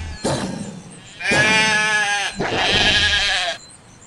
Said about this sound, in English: Come here, sheep.